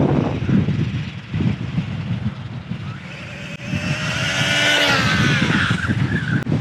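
An MJX 14303 Citroën RC rally car spins out in dirt, its small electric motor whining and rising in pitch over a continuous loud scrabble of wheels on loose ground.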